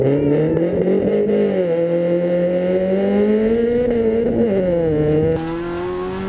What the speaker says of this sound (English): Always mandatory to do a really good launch, clean off the rear tires.